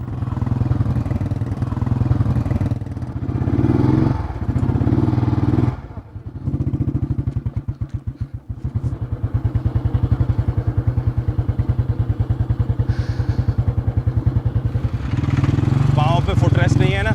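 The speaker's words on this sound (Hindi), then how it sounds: "वैसे ये यानी मोटरसाइकिल की सवारी अरजान के स्ट्रॉन्ग पॉइंट्स में से एक है।" A motorcycle carries a rider and passenger on a ride, its engine throbbing in a loud, pulsing rhythm that dips and revs, with clattering thumps, and people talk over it.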